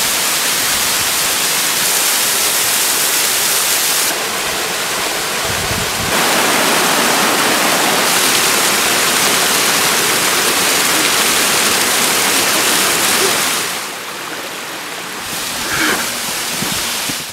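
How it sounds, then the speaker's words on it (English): A seasonal cascade, swollen by fall rains and winter snows, roars as a dense, continuous wash of falling water, loud and close throughout, softening slightly near the end. "With fall rains and winter snows, the cascade comes back to life."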